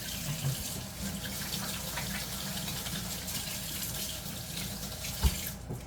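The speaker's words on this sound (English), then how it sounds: "I'm going to rinse my hands. Wash them good." Kitchen tap water runs steadily into a sink as hands are rinsed during home canning of dill pickle relish, a continuous close splashing flow with one brief knock near the end.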